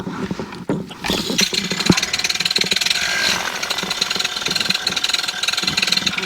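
A flexwing microlight aircraft engine cranks and fires up, settling into a loud, rapid, buzzing idle with a steady rattling pulse that stays close.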